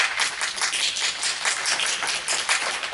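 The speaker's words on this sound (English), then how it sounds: "believe me, I'm the last guy you should be applauding." An audience applauds steadily in a hall, a dense, even patter of many hands clapping with no voices heard above it.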